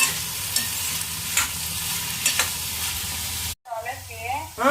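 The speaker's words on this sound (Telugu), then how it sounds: "ఉల్లిపాయ వేగిన తర్వాత అయితే కాకరకాయ ముక్కలు అయితే వేసుకున్నాము. ఇవైతే చాలాసేపు వేగాలి." Bitter gourd pieces and onions sizzle and are stirred in a pan, a steady frying crackle with scraping strokes, then a sharp cut near the end where other sounds, including voices, take over.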